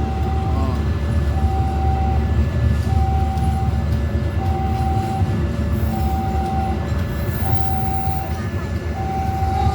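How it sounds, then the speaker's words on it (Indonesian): Argo Wilis passenger train entering Madiun station, a steady loud rumble of wheels and carriages rolling past close by, with a repeated long horn-like tone sounding at regular intervals throughout. "Pada pukul 15:17 KA Argo Wilis memasuki stasiun Madiun"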